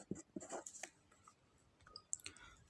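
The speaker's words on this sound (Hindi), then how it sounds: "तो हम क्या करते हैं, इसमें सबसे पहले सब्जेक्ट और ऑब्जेक्ट लिखते हैं।" Pen scratching across paper while writing out a subject and object, a series of quick close strokes and taps, quiet and dry, with no talking.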